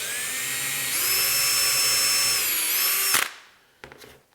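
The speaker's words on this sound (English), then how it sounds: "Get a couple of pilot drills" A power drill bores pilot holes into walnut shop furniture, a steady high whine for about three seconds that rises slightly in pitch, then cuts off abruptly, followed by a brief faint rattle.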